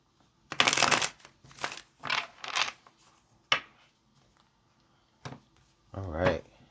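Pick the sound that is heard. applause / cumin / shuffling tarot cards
shuffling tarot cards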